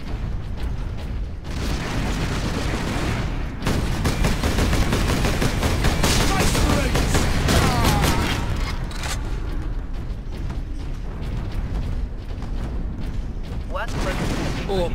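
Dense gunfire rattles in the Warhammer 40k Space Marine video game, rapid machine-gun bursts and booms running continuously, with intermittent voices and battle clatter mixed in.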